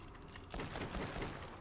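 Luck Cannon gun from the video game Borderlands: The Pre-Sequel firing: a loud, close burst of rapid crackling shots that starts suddenly and keeps going to the end, over a low hum, with no voices.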